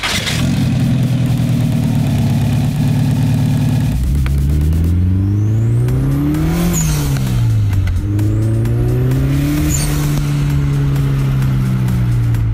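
Fiat Cinquecento fitted with a Subaru Impreza 2.5 boxer turbo engine and a wheelie bar, revving hard and accelerating, loud and close, pitch climbing then dropping with each gear change, continuous throughout with no voices.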